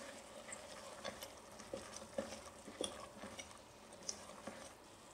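Chole (chickpea curry) with garam masala being stirred in a pan over medium flame, with soft repeated scrapes and light clinks of a spoon against the pan over a faint sizzle, close and fairly quiet.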